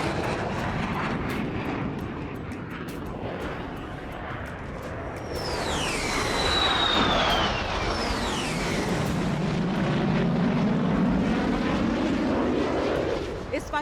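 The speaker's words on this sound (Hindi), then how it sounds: "2 इंजन वाला ये सुपरसोनिक विमान किसी भी मौसम में दुश्मन पर हमला करने की क्षमता रखता है।" A two-engine supersonic fighter jet with two pilot seats, used in combat by Russia, roars loudly, its engine noise swelling and sweeping as it passes, with a deep rumble lingering afterward.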